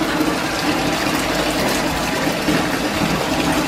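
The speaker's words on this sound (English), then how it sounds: "I've got his bath running right now" Bath water running from a tap into a bathtub at home, a steady loud gushing rush of water filling the tub without pause.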